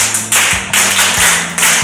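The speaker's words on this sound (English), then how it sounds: "Clap for him." A class claps for a student, with several sharp, close, loud claps in an uneven rhythm and no talking over them.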